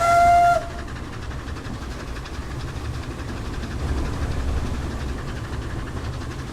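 A GWR pannier tank steam locomotive runs along the Seabourne railway in Train Simulator 2017, a brief whistle tone at the start giving way to a steady low rumble of the engine and wagons.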